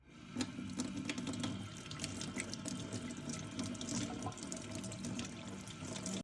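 Tap water runs steadily from a faucet while parts of an electric digital baby-bottle sterilizer are washed in a sink, a constant close splashing stream with no talk.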